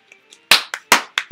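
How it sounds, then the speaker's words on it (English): Hands clapping in a short run of about five sharp, loud claps, uneven in spacing, following two faint taps, with no voice. "I want you to clap your hands."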